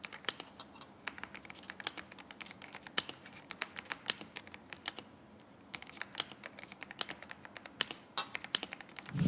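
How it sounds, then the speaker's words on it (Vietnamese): Fast typing on a DareU EK75 mechanical keyboard, close-up, with dense irregular clicks and clacks running steadily throughout and no talk. "âm thanh của Rim Switch thì nó sẽ đầm hơn, ấm hơn và cảm giác gõ thì nó cũng tương tự thôi"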